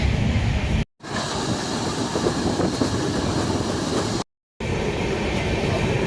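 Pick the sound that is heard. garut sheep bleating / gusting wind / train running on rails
train running on rails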